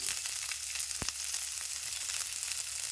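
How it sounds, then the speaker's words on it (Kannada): Sliced onions fry in a small amount of oil, with a continuous close hiss and crackle holding steady throughout and one brief knock partway through, with no voices. "ಈ ಉಳ್ಳಾಗಡ್ಡಿ ಒಂದು ಸ್ವಲ್ಪ ಫ್ರೈ ಮಾಡ್ಕೊಳ್ಳೋಣ ನೋಡಿ ಕಡಿಮೆ ಎಣ್ಣೆ ಹಾಕಿ ಫ್ರೈ ಮಾಡ್ಕೊಳ್ಳೋದು ಉಳ್ಳಾಗಡ್ಡಿ"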